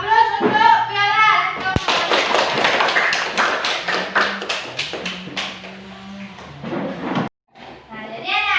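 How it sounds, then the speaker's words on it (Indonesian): A classroom of primary school pupils applauds a classmate named Piala with a dense, lively burst of clapping lasting several seconds. Children's voices are heard before and after. "Aplaus untuk Piala."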